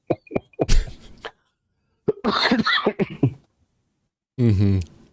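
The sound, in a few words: cough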